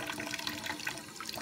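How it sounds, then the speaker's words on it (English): Water runs steadily from a kitchen tap while dishes are being washed, a soft, continuous hiss and splash with nobody talking. "So let's start turning the water on."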